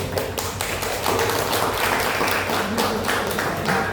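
Seminar attendees clap in a room, a dense, steady patter of many hands that holds evenly for four seconds with no speech over it.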